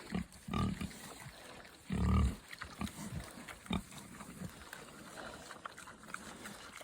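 Pigs eating at a snowy farm in southwest Oregon, with close grunts, snorts and snuffling chomps, some louder bursts among quieter feeding noises.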